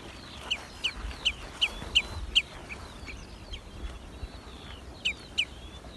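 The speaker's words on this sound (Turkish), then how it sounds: "Kuşların sesi geliyordur inşallah." Birds calling outdoors, a series of sharp, high chirps in quick succession, a pause, then two more, over a soft rustling background.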